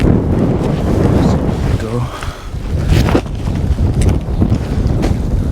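Strong desert wind buffets the microphone at a campsite with a constant low roar, gusting throughout, and a voice is faintly heard beneath the rumble.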